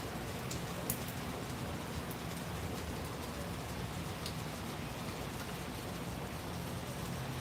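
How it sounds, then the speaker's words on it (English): Steady rain falls at an outdoor RC racetrack during a wet Sunday, a dense continuous hiss with a faint low rumble that holds at one level throughout, with no talk. "The rain has shifted around a little bit. It's trying to rain in on us."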